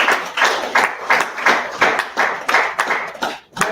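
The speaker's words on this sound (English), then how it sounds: "Clap, I won't judge you." Rhythmic audience clapping at a forex and money masterclass seminar, a crowd striking hands together in a steady, loud, even beat of about three claps per second.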